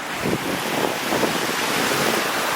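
The White River, running muddy and high after rain, rushes in a loud, steady broadband roar that fills the whole clip, mixed with gusty wind noise on the microphone.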